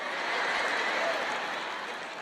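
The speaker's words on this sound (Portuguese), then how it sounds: "Acho que temos algumas palminhas." Light, scattered clapping from a church congregation during a sermon, a steady soft patter of several hands lasting a couple of seconds with no voices over it.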